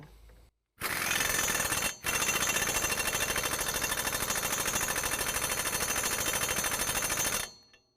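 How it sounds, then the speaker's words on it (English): Impact wrench driving lift kit arm bolts to 222 foot-pounds on a 2017 Ford F-250 Super Duty, a loud rapid hammering burst, a brief break, then a long continuous rattling run that cuts off, with no talking. "Each of these bolts is going to get tightened down to 222 foot-pounds."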